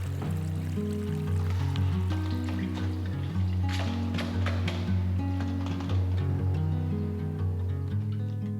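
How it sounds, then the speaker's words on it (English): Water running steadily downstairs in a flooded cabin, a continuous rushing trickle with a low steady hum beneath it, heard from a distance and without any talking. "I hear water running downstairs"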